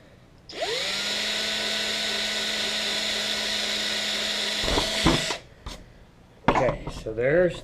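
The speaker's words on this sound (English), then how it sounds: "so we'll drill those first, and now we'll drill them out with the 7/16" A high-pitched power drill whines steadily for several seconds drilling holes, then stops, followed by brief clattering and faint handling noises close by.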